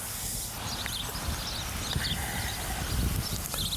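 A horse's hooves clip-clop at a walk, an irregular moderate patter of steps over steady background noise, with no speech.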